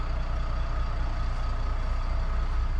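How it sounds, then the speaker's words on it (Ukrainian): Mercedes city bus engine idling and pulling away from a stop by a shop near the terminus, a steady close low diesel rumble with faint interior rattles throughout. "Виїжджаємо зараз на маршрут біля магазину."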